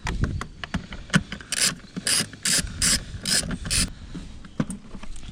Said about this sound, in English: You loosen the screws up, and all you have to do, just lift it.